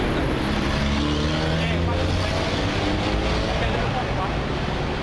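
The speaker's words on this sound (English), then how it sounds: "Traffic's starting to pick up." Steady, dense street traffic in a Brazilian town in the afternoon: a continuous rumble of car engines passing close by, with no break.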